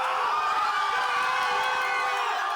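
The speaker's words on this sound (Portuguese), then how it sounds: "A torcida vibra." Football fans cheer and shout together in a bar, a dense, steady roar of crowd voices with whoops rising throughout, loud and continuous from start to finish.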